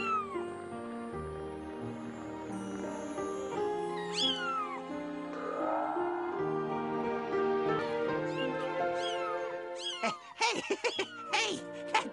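Kittens meow repeatedly in high, thin cries, close and fairly quiet, with a burst of squeakier, overlapping mewing near the end.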